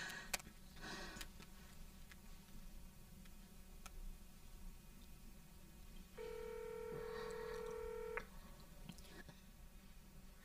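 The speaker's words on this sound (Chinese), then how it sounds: "不行，我打给他。" A phone call is placed at low volume: scattered soft key clicks, then a steady electronic tone holds for about two seconds before fading back into faint room noise.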